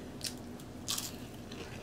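Two crisp, close bites into crunchy Tostitos tortilla chips with white cheese dip, the second crunch louder, followed by soft chewing, with no talking.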